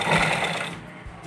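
Sewing machine stitching along a blouse panel, a steady close mechanical whirr that runs for about a second and then stops, with no talk.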